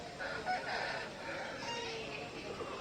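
Native chickens and roosters at a poultry fair in Hindiganal, Karnataka crow and cluck in a busy, overlapping chorus, moderately distant and fairly quiet against the open-air market ambience.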